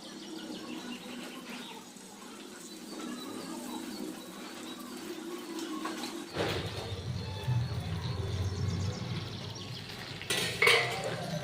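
A metal utensil clinks and scrapes in a pan as a fully cooked tomato is lifted out, with a few faint knocks and a sharper clatter near the end over a quiet kitchen background.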